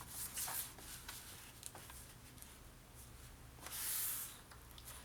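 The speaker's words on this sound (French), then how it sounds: "Alors, je coupe mes 4 bandes." Paper strips for a scrapbook being cut, a few soft snips and rustles near at hand, with a swelling brushy swish partway through, quiet and without voices.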